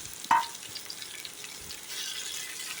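Chopped onions sauté in hot oil in a clay pot on the stove, giving a steady close hiss of frying with one sharp knock near the start and no voices.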